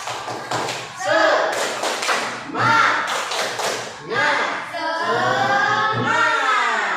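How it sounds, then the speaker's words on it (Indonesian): Schoolchildren in a classroom chant a rhythmic spirit clap routine, sharp patterned hand claps and thumps punctuating their loud group voices throughout. "1, 2, 3, tepuk semangat"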